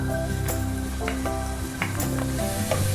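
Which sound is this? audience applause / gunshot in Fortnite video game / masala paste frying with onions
masala paste frying with onions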